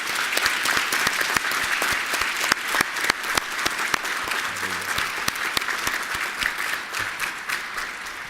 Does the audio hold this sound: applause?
yes